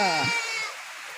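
Goat bleating on a rainy day, a single loud, close, wavering bleat with clear harmonics that fades out within about a second.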